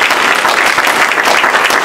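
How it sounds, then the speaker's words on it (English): Dense, loud applause from a training conference audience thanking volunteers, a continuous wash of many hands clapping at close range with no talking on top. "Can we have a round of applause for your volunteers"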